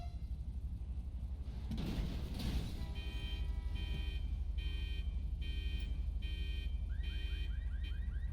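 A car alarm in the GTA video game blares its repeating rhythmic electronic pattern of pulsing tones, loud and steady over a low engine rumble, with a brief burst of noise just before it starts.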